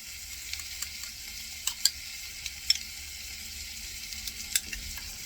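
Garlic and broccoli sautéing in a greasy soup pot, a soft, fairly faint hiss broken by light clicks and taps of a utensil against the pot, no voices.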